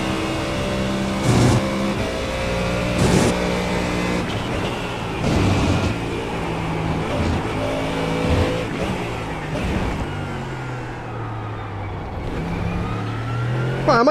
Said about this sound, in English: It's a very nice sounding Ford Mustang GT3.